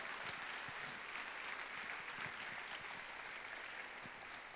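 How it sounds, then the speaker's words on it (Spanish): A church congregation applauds at a Sunday morning service, a steady wash of many hands clapping at moderate distance that holds evenly throughout with no voices standing out. "Dale fuerte ese aplauso al Cristo de la gloria."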